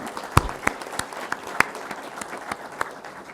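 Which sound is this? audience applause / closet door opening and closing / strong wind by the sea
audience applause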